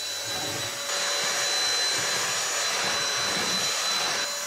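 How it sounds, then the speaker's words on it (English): A household hoover runs powered by an ALLPOWERS R600 portable power station, giving a steady, even whooshing drone with a faint whine that holds throughout, fairly close and alone. "One thing I've got to test this on, Hoover."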